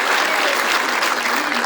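A comedy club crowd greets a stand-up comedian walking onstage with loud, continuous applause, a thick wash of clapping throughout.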